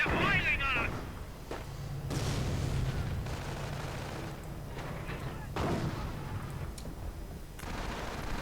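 Gunfire cuts down pioneers in a World War II real-time strategy game, with a steady rumble of battle, bursts of shots and heavy thumps, while a commentator talks over it throughout.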